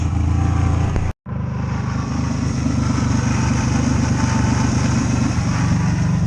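A Ranger engine with rev and power trouble runs at a steady, close, loud drone, breaks off in a brief dropout, then picks back up and holds a strong, even note after extra fuel is fed in.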